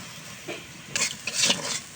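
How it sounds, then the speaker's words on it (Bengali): A spoon stirs spices with turmeric powder and salt in a hot pan, scraping and sizzling softly with a few louder clinks and hisses. "সবগুলা মিশিয়ে নেওয়া হচ্ছে।"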